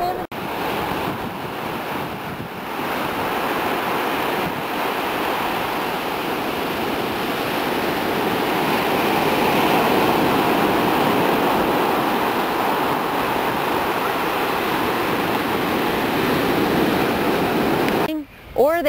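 Ocean surf at Cocoa Beach, Florida, washes in a steady broad roar that swells slightly toward the middle. Wind buffets the microphone, and a brief bump and rustle come at the very end.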